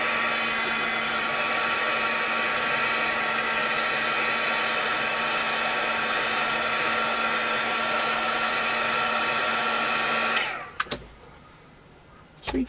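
A heat tool blows hot air onto junk journal material, a loud steady whirring drone for about ten seconds that then cuts off, followed by a few handling clicks and quiet.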